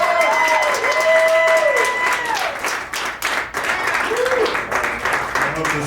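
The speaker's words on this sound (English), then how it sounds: "Clap it up for him, guys." A live podcast audience applauds and cheers as a comedian takes the stage, loud continuous clapping with a few voices calling out, running throughout the clip.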